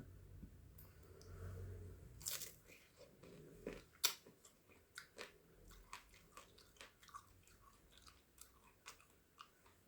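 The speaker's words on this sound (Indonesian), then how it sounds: "Kalau kita nggak mau kupas nggak apa-apa, kita gigit gitu," Crisp bites and repeated chewing of persimmon (kesemek) flesh, close and fairly quiet, with a sharp crunch of the first bites followed by a steady run of small wet chewing clicks, no voice.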